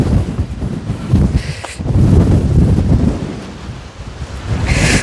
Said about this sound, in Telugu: గాలి ఎక్కువ వస్తుంది